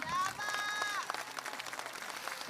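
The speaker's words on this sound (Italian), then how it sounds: "applausi" An audience at a live show in Carbonia applauds as performers are introduced, the clapping spreading under a voice on a microphone with some feedback-like ringing early on.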